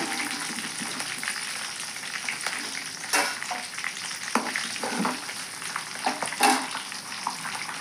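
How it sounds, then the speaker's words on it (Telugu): Tempering spices, mustard seeds, cumin, fenugreek, chana dal and urad dal, crackle and sizzle in hot oil, with sharp pops and spoon stirring scrapes over a continuous frying hiss. "అన్నీ కలిపిన పోపు దినుసులండి వేసేస్తున్నాను"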